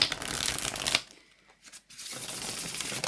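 Linen-finish tarot cards shuffled by hand, a dense papery riffle for about a second, a brief near-silent pause with a few soft taps, then steady shuffling resumes, close and clear.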